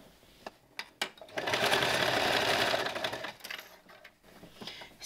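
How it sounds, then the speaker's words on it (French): A sewing machine stitches a straight seam on a dress, running in a steady whirring burst of about two seconds between quieter clicks and pauses. "Si vous avez du mal à passer les coutures, bah vous aidez un peu la machine à passer."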